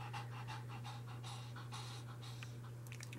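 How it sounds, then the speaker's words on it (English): Dog panting in quick rhythmic breaths at close range, fairly quiet over a steady low hum, with no talking. "Do you see the dog, Emmy?"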